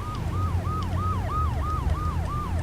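Fire engine siren in the GTA 3 video game, a loud repeating wail cycling about every third of a second, continuous over low engine rumble throughout.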